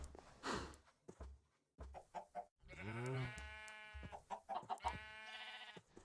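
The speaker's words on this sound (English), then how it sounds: "I thought I had more chickens down there." Chickens in a coop clucking and squawking close by, a string of short loud clucks followed by longer drawn-out calls, with brief silent gaps between bursts and no talk.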